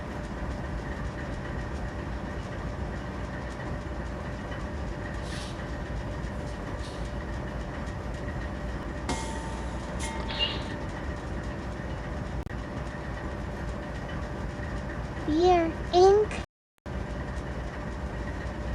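A train runs along the tracks with a steady rumbling drone and faint rhythmic rail noise, a short whistle-like tonal sound near the end before a brief dropout; a voice says a couple of words.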